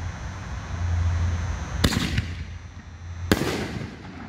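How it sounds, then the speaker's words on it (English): Two 5-inch Nishiki canister firework shells by Raccoon burst outdoors, each a sharp loud boom followed by crackling decay, spaced about a second and a half apart over a low background rumble. "we got the 5-inch Nishiki shells coming up"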